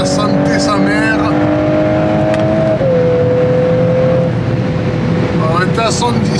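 Volkswagen Golf 8 R accelerating on a motorway from a toll barrier, its engine note rising steadily and then dropping as a gear changes, close and continuous, with someone talking over it.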